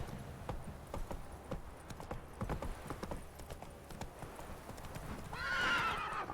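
Horse hooves clip-clop steadily on a bridge in a video game, with a whinny rising near the end over faint game ambience.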